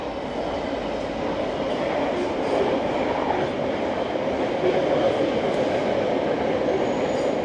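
A passenger train runs past nearby on a route through Altrincham, heard as a continuous broad rumble and wheel roar that stays loud and steady for several seconds, with no voices over it.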